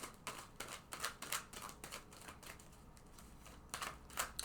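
Tarot cards being drawn and handled during a love reading, a run of quick, crisp papery snaps and flicks, close and fairly quiet, with no talking.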